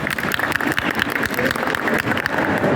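An indoor audience at an expo event applauding, with dense, steady, loud clapping from many people throughout.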